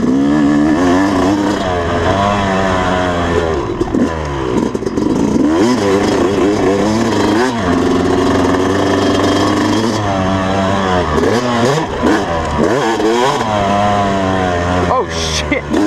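Motocross bike engine warming up at a groomed dirt track, revving up and down repeatedly in loud, close rising and falling sweeps, with a voice talking over it at times.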